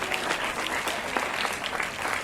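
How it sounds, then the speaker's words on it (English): An audience at a student debate applauds a debate judge, with steady, continuous clapping from many hands filling the whole stretch at an even loudness. "Please, a round of applause for her."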